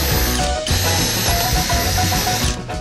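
A power drill reams a hole for a terminal inside a van, a loud close high-pitched whir that runs continuously with brief dips in pitch as the bit bites.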